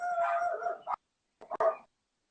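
Dogs barking and snarling in a fight, a run of rough growling barks followed by a pause and then a few more sharp yelps and barks, close and loud.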